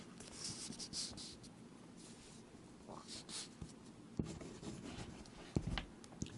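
A Waterman Carene fountain pen moves quickly across paper in quick bursts of close, dry scratching strokes with brief pauses and a few light taps.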